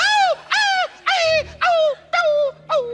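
A voice imitates a dog yelping in six sharp, high, evenly spaced cries, each sliding downward, loud and close, with a faint low rumble under the middle ones on a comedy show stage.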